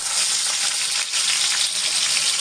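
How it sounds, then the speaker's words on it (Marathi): Chopped potatoes hit hot oil with crackling cumin seeds for sabudana khichdi, giving a steady, loud, close sizzle that runs without a break for the whole stretch, with no voices. "आता आतमध्ये हे बटाटे घालतोय."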